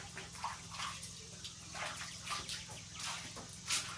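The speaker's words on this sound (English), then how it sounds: "So I'm just going to push what water has been flowing here." Shallow water trickles and splashes from a spring house toward a pond, a soft, uneven burble with occasional small drips and gurgles. It is close and quiet, with no talk.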